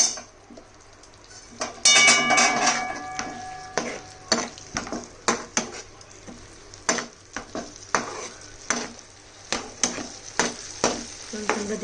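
Cornflour slurry goes into chilli chicken in a hot pan, hissing with a sharp sizzle, then a spatula stirs and scrapes repeatedly in steady strokes against the pan under a low constant frying hiss.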